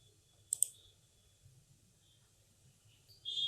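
Two quick computer mouse clicks in close succession, sharp and near against a quiet background, followed by near silence and a faint higher tone near the end.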